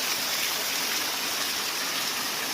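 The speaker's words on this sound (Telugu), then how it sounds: "ఈ వాటర్ ఫాల్ సూపర్ ఉంటుంది" A waterfall gushes in a loud, steady roar of rushing water, close and continuous throughout.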